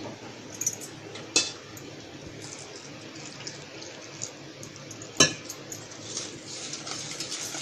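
A utensil clinks against a bowl a few times amid soft stirring of rice flour batter with salt, and a faint trickle of water being added, with no talking.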